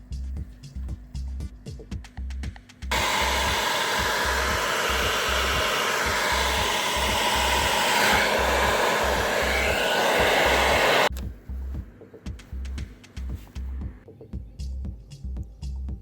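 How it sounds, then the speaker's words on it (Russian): An ordinary household hair dryer runs outdoors in freezing weather to heat sound insulation on a Lada Vesta rear door. It gives a loud, steady whooshing whir for about eight seconds, then cuts off abruptly, with rhythmic background music before and after. "Возьмем обычный фен."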